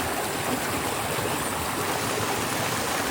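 A continuous rushing river in the Jamaican countryside, water flowing steadily and close by with a broad, even hiss and no pauses.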